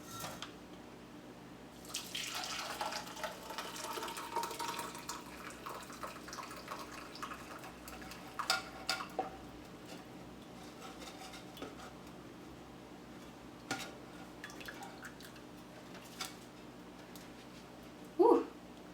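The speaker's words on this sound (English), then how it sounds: "strain the vegetables into this sifter and then the vegetable broth into the cup below" Hot vegetables and vegetable broth strained through a sifter into a cup, giving a steady wet splashing and trickling that rises early, then settles into softer dribbles with a few sharp clinks near the end.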